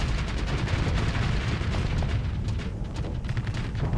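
Ship weapons fire in the Starsector space combat game during a fight with pirates, a dense, continuous barrage of booming shots and blasts that stays loud across the whole stretch with no speech over it.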